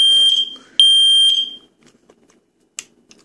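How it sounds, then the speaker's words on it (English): A piercing high-pitched DC-powered smoke alarm with a Form C relay shrieks in two long bursts when tested, cutting off abruptly, followed by quiet clicks and a brief electronic chirp. "If I press it for 5 seconds, it should activate"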